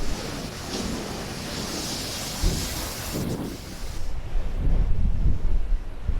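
Ocean waves crash and surge along a rugged stretch of the Oregon coast, a steady loud roar of breaking surf with rising swells and some wind noise, no voices.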